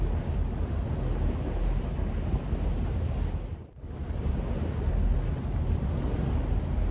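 Wind and sea waves surge around a boat on Tokyo Bay at night in a constant, rough roar, with wind buffeting the microphone; a brief sharp dip near the middle breaks the noise before it returns.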